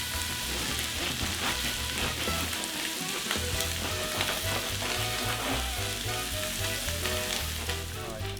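Thick bacon frying in a pan, a loud continuous crackling sizzle with dense spitting pops throughout, close up, while a low rhythmic background tone runs underneath.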